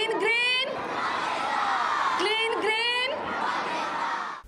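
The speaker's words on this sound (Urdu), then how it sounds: "تقریب کی مہمان خصوصی وزیر مملکت برائے ماحولیاتی تبدیلی زرتاج گل نے بچوں سے نعرے لگوائے" Crowd of schoolchildren chanting slogans together at a school sports event, loud repeated shouted bursts with a cheering crowd throughout.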